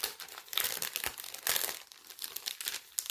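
Plastic packaging around a skein of Ferry embroidery thread crinkles and crumples in close, steady bursts of handling with no talking.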